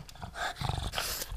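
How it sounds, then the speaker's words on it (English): A deaf pug grunts and snorts close by in a series of rough, throaty vocal bursts with light growling, fairly loud and without talk. "Are you a happy pug?"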